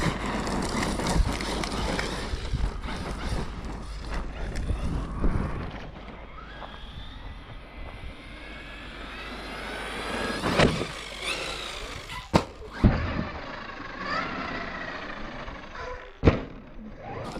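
A Team Corally Kagama Limited Edition RC truck races at speed, its motor whine sweeping up and down with a few sharp thumps of landings from jumps, heard fairly close with wind-like rushing noise throughout.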